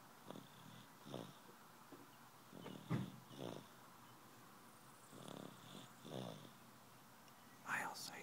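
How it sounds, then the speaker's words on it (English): Soft, slow snoring from a person asleep, a series of quiet rhythmic breaths spaced about a second apart in a hushed room, with a faint brief voice near the end. "You're snoring."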